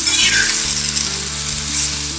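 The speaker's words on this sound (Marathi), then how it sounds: "तर आता आपण हे भाजून घेऊया." Pumpkin peel, mint and garlic cloves roast in a hot pan with a continuous bright sizzle and faint rattling under it, close and fairly loud, with no talk.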